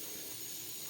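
Water poured into a hot pan of frying katla fish pieces with curd gives off a steady, even sizzling hiss that lasts the whole moment, with no pauses or separate bursts.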